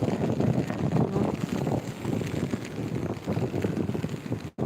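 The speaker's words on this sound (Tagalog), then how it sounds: "lakas ng hangin dito" Strong wind buffeting the microphone by the sea near beachside rest houses, a rough continuous roar with gusty surges, cutting out abruptly at the very end.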